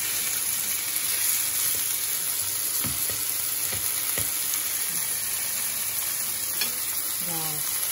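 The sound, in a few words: pork frying in a pan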